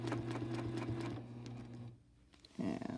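A sewing machine stitches quilt lines along a ruler with a close, steady mechanical hum and rapid needle ticking, stopping briefly before a short burst of handling noise.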